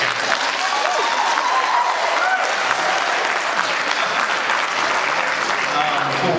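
Loud, close applause from the audience at a congressional candidates' debate, a dense continuous roar of clapping held evenly throughout.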